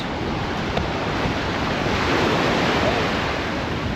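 Ocean waves wash steadily onto a beach, a loud continuous roar of surf mixed with wind across the microphone, with no pauses.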